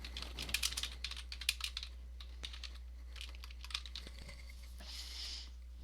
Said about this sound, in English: Oh, I forgot to mute when I was typing.